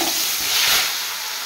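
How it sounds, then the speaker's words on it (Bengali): Turmeric-and-salt-marinated fish frying in hot oil gives a steady broad hiss and sizzle, loud and close, swelling slightly mid-way with no voices over it. "এবার মাছগুলো আমি একসাথে ভেজে নেব"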